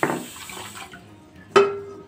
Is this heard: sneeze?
no